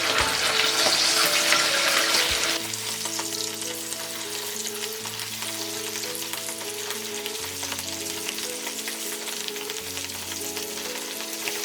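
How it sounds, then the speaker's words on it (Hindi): Idli pieces frying in oil over a medium flame, a steady close sizzle that starts loud and bright, then settles into a softer, even crackle throughout. "हम पहले इसे मीडियम फ्लेम में फ्राई करेंगे और बाद में इसे क्रिस्पी करने के लिए हाई फ्लेम में फ्राई करेंगे।"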